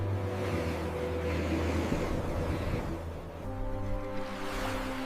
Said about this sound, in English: With every passing minute, the sea creeps closer to the fragile shore.